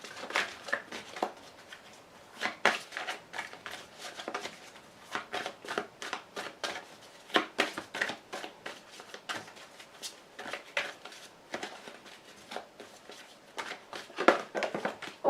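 Playing cards shuffled and dealt during a tarot-style reading, a steady run of crisp riffling flutters and soft slaps, fairly close, with no talking.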